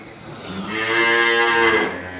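A big Holstein Friesian dairy cow on a farm gives one long, loud, sustained moo that swells and fades, with no talk.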